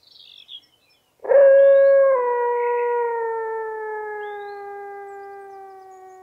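A person lets out one long, steady howl imitating a wolf, sliding slowly downward in pitch and fading over several seconds.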